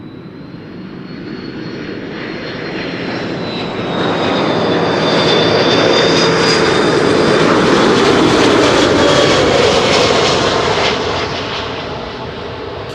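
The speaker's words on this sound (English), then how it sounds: "There's a Delta A330 coming here, and I'm not going to skip it." A Delta Airbus A330 arriving at Amsterdam Schiphol Airport, its jet engine roar swelling from a distant whine to a loud, broad rumble as it passes close, then slowly fading.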